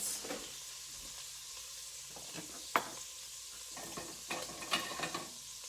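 Bacon pieces fry in a pan, giving a steady, quiet sizzle with scattered sharp crackles and pops and a few stirring scrapes, with no voices.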